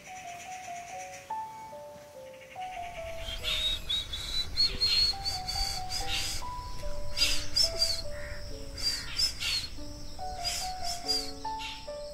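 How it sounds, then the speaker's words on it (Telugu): A common hawk-cuckoo, the brain fever bird, calls in repeated rising whistled phrases that climb in steps and repeat, loud and clear outdoors, with a steady hum of insects and other birds in the background. "దీనిని బ్రెయిన్ ఫీవర్ బర్డ్ అంటారు."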